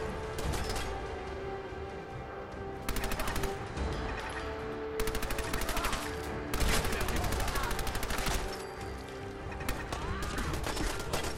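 Rapid submachine gun bursts in Fallout 4, several sustained automatic volleys crackling loudly over a steady game soundtrack and ambient hum, with short pauses between bursts.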